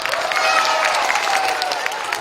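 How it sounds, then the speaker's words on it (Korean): Dense, steady applause from a crowd at a televised spring children's event, a continuous wash of clapping with faint cheering mixed in, filling the whole moment without pause. "박수 보내주세요."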